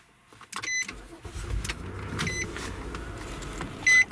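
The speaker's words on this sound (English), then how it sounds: "Start the car." A Nissan Murano starts up: an engine turns over and settles into a steady idle, with electronic chimes at the beginning and a short beep near the end, close inside the car.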